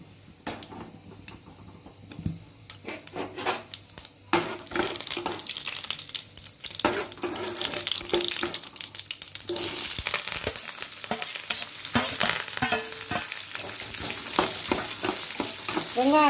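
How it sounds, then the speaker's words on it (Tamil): Onions sizzle in hot oil with urad dal and curry leaves for an ivy gourd aviyal. The frying hisses continuously and grows louder and denser partway through, broken by scraping stirs and light ticks of a spoon against the pan. "நல்லா வெங்காயம் பொன்னிறமாக வதங்கிருச்சு"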